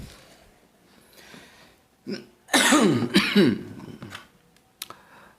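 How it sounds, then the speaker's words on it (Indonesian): A person coughs in a short, harsh burst of several hacking coughs, close to the listener, after a quiet stretch with faint background noise. "Batuk."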